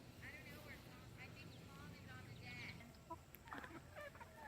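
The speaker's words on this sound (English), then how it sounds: "And here's our chickens." Chickens in a farm coop cluck and squawk in short, scattered calls at a moderate distance, heard over a low steady background.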